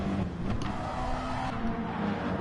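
Race car engines in a GT racing video game, a continuous droning roar that stays steady and fairly loud throughout, with no talk over it.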